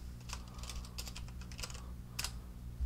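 A computer keyboard is typed on in a quick run of soft keystrokes, then one sharper press like an enter key near the end, quiet and close with no talk.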